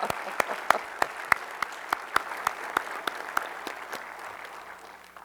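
Audience applause at a space exploration event in Houston, a run of distinct claps rising out of room noise and gradually thinning and fading over about five seconds.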